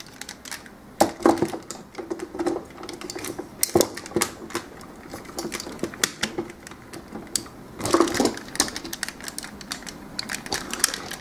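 Plastic and die-cast parts of a Transformers Masterpiece Optimus Prime figure snapping into place, giving several sharp clicks and clacks in short clusters, close and fairly loud over a quiet room.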